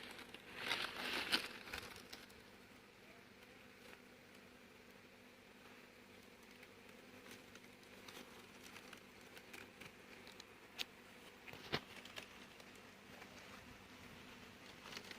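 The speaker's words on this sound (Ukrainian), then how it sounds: "у нас йде обліт посіки" Honey bees flying around an apiary on a warm day of about 20 degrees, a soft, continuous hum of many wings at moderate distance with occasional closer buzzes passing by.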